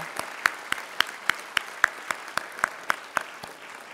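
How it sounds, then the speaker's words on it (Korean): A church congregation at a Korean New Year's Eve worship service claps together in a steady unison rhythm, about a dozen sharp, evenly spaced claps over a quiet room. "서로 축복하는 박수 하도록 하겠습니다"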